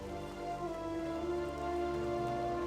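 Steady rain falling in the Dustwallow Marsh swamp zone of World of Warcraft, a constant patter under a layer of tonal ambient game music, with no voices.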